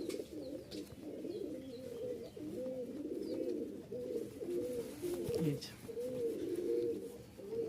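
Several Rajshahi colour-matched Giribaj pigeons coo continuously in overlapping low rolling calls, fairly close, with light background noise and no clear speech.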